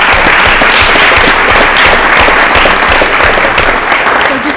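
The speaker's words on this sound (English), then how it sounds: "So just a nice round of applause for our winners and scholars." Loud, dense applause fills a school committee meeting room as the audience claps for student winners and scholars, sustained and close for several seconds.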